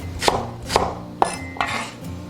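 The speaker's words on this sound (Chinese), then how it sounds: "然后大葱斜刀切小段" Knife cutting scallion diagonally into short pieces on a board, four or five distinct crisp chops spaced about half a second apart, close and clear with no talking.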